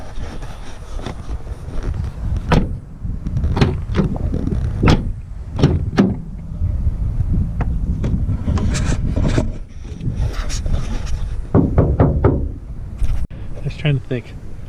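A car's power window motor whirs and rubs as the glass moves, with scraping, creaking tones running beneath a person talking inside the stopped vehicle.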